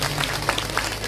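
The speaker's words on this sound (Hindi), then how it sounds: "आप सभी के लिए जोरदार ताली" Applause from the audience at a Bhagwat saptah religious gathering in Noida, a steady wash of clapping heard over a constant low hum.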